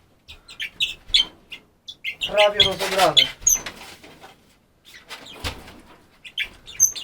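Small orange-colored aviary birds, called 'świergotki', chirp and flutter in a partly dismantled aviary, with quick high tweets and bursts of wing flapping close by, while someone speaks between them.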